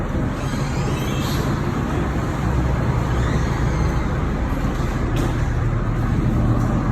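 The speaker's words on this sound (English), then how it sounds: "Okay, so I guess that's probably our bus out here." A bus engine idles outdoors with a steady low rumble and traffic noise around it, close and fairly loud, with no voices.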